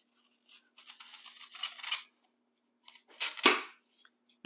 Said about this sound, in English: Come back with just a serrated knife.